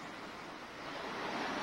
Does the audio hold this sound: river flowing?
yes